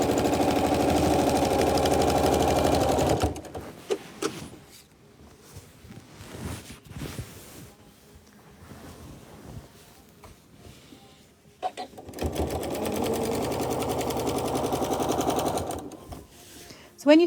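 A sewing machine quilting a quilt top runs in a steady, loud whirring stretch, stops for several seconds of quiet handling and a voice, then runs steadily again.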